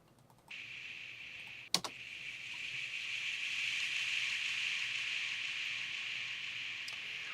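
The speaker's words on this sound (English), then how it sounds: "We also have this little waterfall sound that plays a couple times." Washed-out waterfall sound effect in an electronic music track, a soft filtered hiss that fades in, swells and holds steady, with a sharp click partway through.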